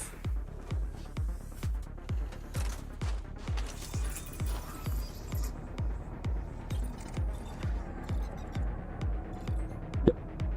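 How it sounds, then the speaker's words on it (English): An approaching ship in the space game Elite Dangerous gives a deep, rhythmic thumping pulse that repeats about every half second without stopping. A few faint metallic clinks and one sharp click sit on top of the pulse. "that is the sound of the ship coming in."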